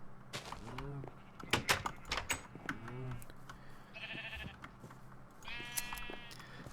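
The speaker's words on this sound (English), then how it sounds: "I'm going to shear some sheep" Sheep in a video game bleat repeatedly while being sheared, several wavering bleats spaced across the scene alongside brief clicking and a sliding, door-like sound effect, with light talk underneath.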